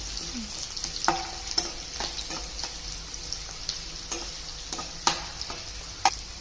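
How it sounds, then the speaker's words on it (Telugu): Onion and curry leaves frying in a pan sizzle steadily while a spoon scrapes and knocks at irregular intervals, several sharp stirring clicks standing out up close, with no speech. "కరివేపాకు వేస్తాను కూడా దూరగా బ్రౌన్ కలర్ వచ్చేటట్టు దూరగా వేయించుకోవాలి"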